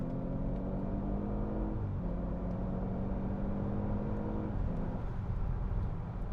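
A car accelerates hard from 50 mph on the road, with a steady engine drone and rising whine heard from inside the cabin as the tone climbs and shifts.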